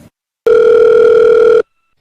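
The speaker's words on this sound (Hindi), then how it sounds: "घंटी तो जा रहा है लेकिन फोन नहीं उठा रहा है।" An outgoing phone call rings back with a single long electronic tone, loud and close, lasting just over a second between short silences.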